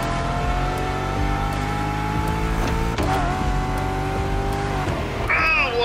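Chevrolet Camaro and Ford Mustang muscle cars racing in The Crew Motorfest video game, their engines a loud, steady, close drone that shifts pitch partway through and picks up a higher whine near the end.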